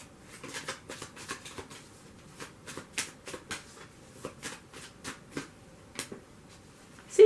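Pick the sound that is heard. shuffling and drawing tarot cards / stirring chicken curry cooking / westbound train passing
shuffling and drawing tarot cards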